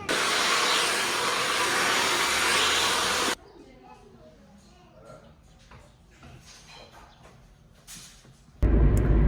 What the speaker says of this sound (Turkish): şimdi saçıma bir fön çektirdim